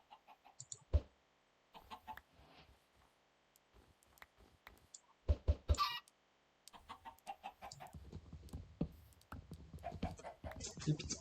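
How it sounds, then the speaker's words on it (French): Minecraft chickens cluck in short, scattered bursts with scratchy clicks, near and fairly clear, with quiet gaps between calls and a denser stretch of clucking toward the end. "Des poules."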